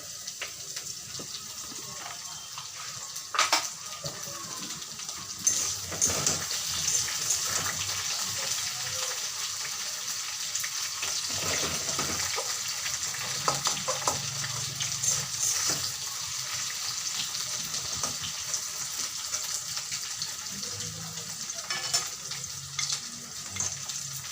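Diced potatoes and pointed gourd fry with panch phoron in hot oil in a kadai, giving a continuous close sizzle with occasional clatter of stirring and no talk.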